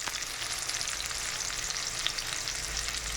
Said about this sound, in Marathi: कांदा फ्राय होत आहे